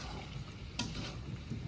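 Stirring potatoes in a pot of goat meat curry cooking at an outdoor picnic, a faint steady sizzle with a single sharp scrape of the spoon midway.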